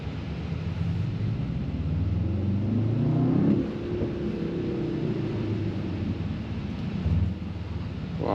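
The V8 engine of a 2024 Mercedes-AMG S 63 E Performance sedan revs and rumbles at close range, rising in pitch, then easing back to a deep idle-like growl.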